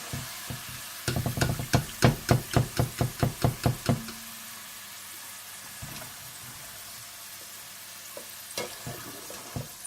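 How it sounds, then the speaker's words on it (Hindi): Potato pieces fry in hot oil with a steady sizzle, while a utensil knocks against the pan in a quick, regular series of sharp taps for about three seconds, then a few scattered knocks later. "और इस तरह से आप आलूओं को भी फ्राई करके निकाल लें।"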